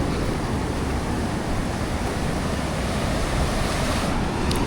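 Steady, dense roar of ocean surf at the seashore, continuous and loud with wind buffeting the microphone and no distinct breaks between waves.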